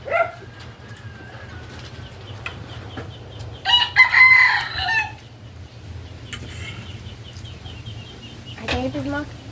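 A rooster crows once, loud and close, amid quieter clucking and other bird calls over a low hum.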